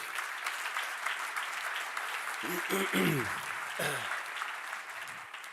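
Conference audience clapping at a corporate event, a steady wash of applause running throughout while a voice speaks over it in short bursts near the middle.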